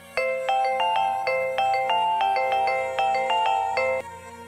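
A phone ringtone plays a bright, repeating electronic melody of short chiming notes, loud and close, then stops abruptly.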